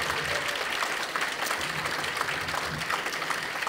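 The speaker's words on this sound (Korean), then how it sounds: "우리 박수로 맞이하시겠습니다." A crowd at an evening church conference service applauds steadily and evenly throughout, a dense wash of clapping that neither builds nor fades.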